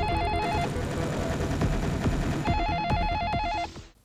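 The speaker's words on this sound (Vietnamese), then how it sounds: "Tí nghe điện thoại đi em, chắc mẹ em gọi đó." Cartoon telephone ringing with a shrill electronic trill in two bursts separated by a short pause, loud and steady over a busy background of music and effects, with no talking.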